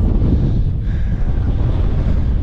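Strong wind buffets the microphone on an exposed hill path near Kinder Scout, a constant low roar and rush with no breaks.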